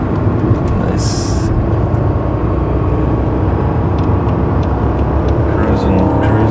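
A tuned Mercedes S55 cruising along a coastal road gives a steady, loud engine and road drone inside the cabin. Talk is heard over the noise.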